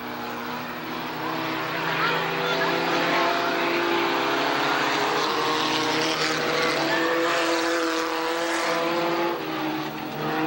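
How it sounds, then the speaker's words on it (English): Race cars at Tonopah Speedway in 1989, four of them battling for second place along one straight, a loud, continuous engine roar that swells and shifts in pitch as they pass, captured from trackside. "4 cars fighting for second place all on the same straight."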